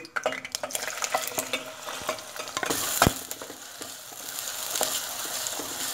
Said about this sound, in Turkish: Evet yağımız kızdıktan sonra soğanımızı atıyoruz arkadaşlar.